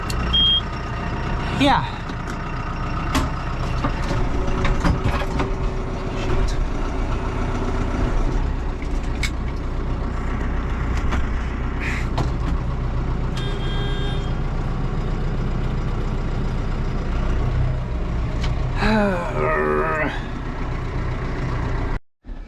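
A reversing truck beeps steadily over a low idling engine, with a John Deere Gator utility vehicle nearby; someone speaks briefly and the engine rumble runs throughout with a few clanks.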